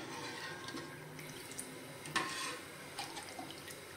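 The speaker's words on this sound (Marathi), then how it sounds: "ह्याच्यामध्ये मी थोडं अजून पाणी घालते, गरम करून घेतलेलं आहे मी हे पाणी." Hot water poured into a simmering curry, a soft liquid splash and trickle with a few brief drips, close and fairly quiet.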